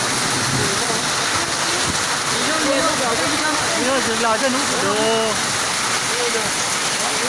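Hail pours down steadily in Cavite, a dense continuous patter with no break, while people talk and call out over it nearby.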